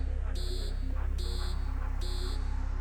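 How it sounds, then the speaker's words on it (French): Aircraft cockpit door emergency-code alarm: three evenly spaced, high-pitched electronic beeps, each about a third of a second long, sounding over a steady low engine hum. "En tapant ce code d'urgence, une alarme sonore retentit dans le cockpit pendant 15 secondes"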